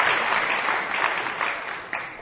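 Audience at a spiritual lecture in Tirupati, India, breaking into dense, sustained applause, many hands clapping together at once in a steady wash.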